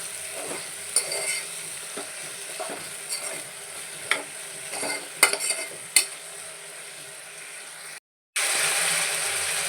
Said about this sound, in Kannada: ಈ ಥರ ಹಾಕಿ ಈ ಥರ ಚೆನ್ನಾಗಿ ಫ್ರೈ ಮಾಡಿ